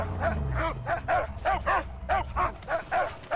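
Pup, the dog companion in the Mad Max video game, yaps at a buried mine in a steady run of about ten short, sharp barks spaced roughly a third of a second apart, close and fairly loud, with no talking.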